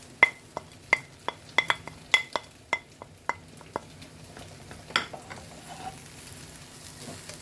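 Spoon stirring spicy potatoes with coriander leaves in a pan: a series of sharp, close clinks and scrapes at an irregular rhythm, thinning out toward the end with faint sizzling.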